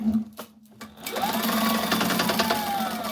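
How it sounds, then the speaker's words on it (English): A sewing machine stitches a Velcro strip onto tactical gear, starting with a few short bursts and then running in a steady, close, whirring rattle of rapid needle strokes. "I like to sew 2 times. because that's like a stress point."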